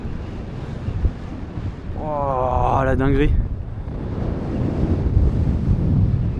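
Strong wind buffeting the microphone in a Tunisian village, a loud continuous rumbling roar throughout, with a person briefly exclaiming in the middle.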